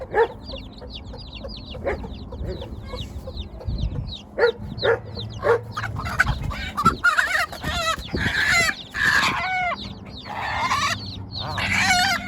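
Chickens cluck and squawk nearby in a busy, irregular chorus, with a dog barking briefly in the mix and some shuffling movement.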